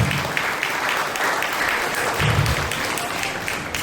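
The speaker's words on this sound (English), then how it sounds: "Give us a round of applause." Audience applause at a graduation ceremony for an education centre, a steady dense wash of clapping from a large crowd at moderate level throughout, with a brief low murmur of voices partway through.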